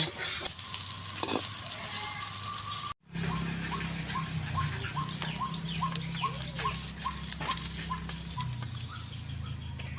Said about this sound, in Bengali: আমার শাকটা ভাজা হয়ে গেছে